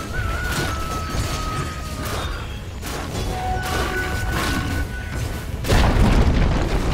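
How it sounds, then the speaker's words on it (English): A tower collapsing in Dota 2: a deep, rumbling boom with crumbling crash textures, moderately loud, ending in a heavier low burst near the close, amid ongoing game effects. "Dire's top tower has fallen."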